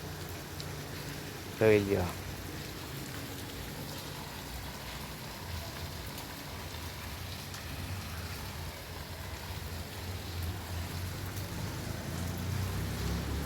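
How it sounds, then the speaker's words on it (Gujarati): Fine drizzle patters over a night-time market, a steady diffuse hiss; someone speaks briefly near the start, then the light rain carries on alone. "શાંતિથી વરસાદ પડે ઝીણા ઝીણા હો ભાઈ"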